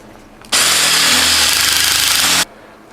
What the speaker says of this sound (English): drill this one out too.